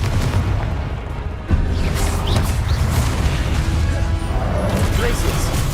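A fiery Confringo spell blast in Hogwarts Legacy, one sudden booming burst cutting through a dense wash of game effects and background noise.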